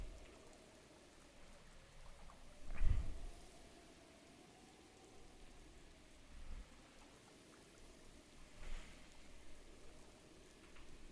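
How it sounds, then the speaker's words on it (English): Rain falls steadily in the tropics near the equator as a faint, even patter, broken by a couple of louder drops or splashes nearby and no voices. "now it's raining"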